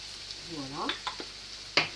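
Spoon stirring cooked vegetable samosa filling in a frying pan: soft scraping strokes and a quiet sizzle, with a short rising voice-like tone partway through and a sharp clack near the end.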